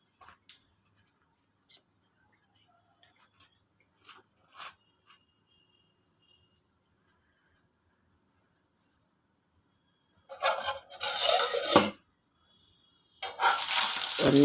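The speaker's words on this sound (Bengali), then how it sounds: "শুকনো লঙ্কাগুলো ভেজে নিচ্ছি" Dry red chillies frying in oil, a few faint ticks and pops at first, then two loud bursts of crackling sizzle close by, the second running to the end.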